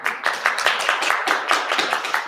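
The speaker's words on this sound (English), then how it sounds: "I'm going to be expecting applause every time I get something right" A small audience at an Association on American Indian Affairs annual membership meeting claps steadily for a couple of seconds, a moderate, even patter of hands in a room.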